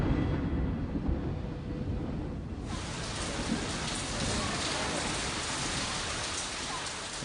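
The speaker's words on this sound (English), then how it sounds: "And then it begins to rain." Steady rain pours down at a concert, a dense, continuous hiss of drops on surfaces that swells brighter and heavier partway through, with no voices.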